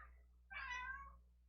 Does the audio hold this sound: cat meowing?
yes